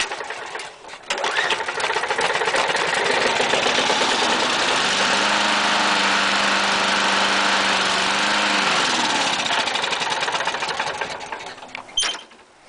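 Bolens lawnmower engine, started with a rope pull after sitting unused for a few weeks, runs at a loud, steady, rapid buzzing idle up close for about eleven seconds before cutting off abruptly.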